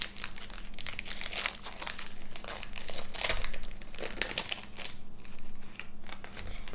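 A Topps 2020 Holiday trading card pack wrapper is crinkled and torn open close up, with continuous foil crackling and rustling bursts across several seconds and no talking.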